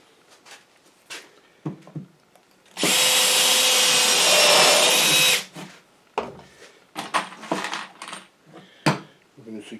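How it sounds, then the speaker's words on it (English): A power drill bores a pilot hole in a space heater, a loud steady whine lasting about three seconds, framed by nearby clatter and a person talking before and after. "I'm going to drill a pilot hole there."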